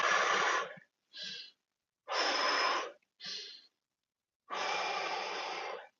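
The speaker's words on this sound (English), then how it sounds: "Take a nice big deep breath in, release, and fold down towards the leg." Deep breaths during a lower-body stretching workout, heard as long close inhales and exhales in alternating bursts, two longer breaths separated by shorter ones, with silent pauses between.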